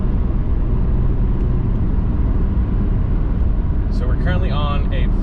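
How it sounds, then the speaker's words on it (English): An Alfa Romeo Giulia 2.0T fitted with a Club Alfa Tempesta valved exhaust and Furio downpipe drones steadily from inside the cabin, a loud continuous engine and road roar, with a person talking over it toward the end. "we finally got our downpipe and exhaust installed"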